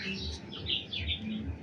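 Poultry chicks in a brooding house on dry litter, giving a steady chorus of high, overlapping chirps and peeps from many birds close by, with no talking.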